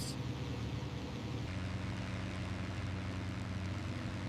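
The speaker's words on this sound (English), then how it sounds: "At first light, the aircraft launched in waves" Aircraft engines drone steadily as warplanes launch in waves at first light, headed for the Pearl Harbor attack, a continuous loud propeller roar with no breaks.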